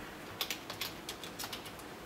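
Fingers type on a computer keyboard in a quick, irregular run of about a dozen light, faint key clicks with no talking.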